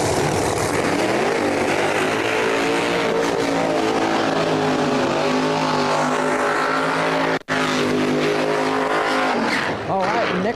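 A No Prep Kings drag racing car does a burnout at New England Dragway, a loud, sustained engine roar with rising and falling revs and tire noise. It cuts out briefly near the end, and an announcer talks over it.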